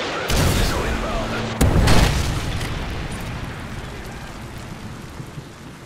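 A Predator missile exploding in Modern Warfare 3 multiplayer, a loud close blast with a second heavier boom just after, decaying into a long rumbling wash of debris.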